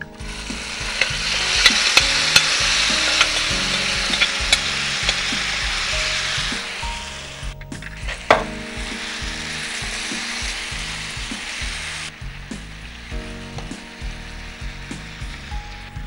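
Onions, taro and potatoes frying and being stirred in a pan for a cooking show, with a steady sizzle and repeated scraping stir strokes throughout, close and fairly loud, with no talking.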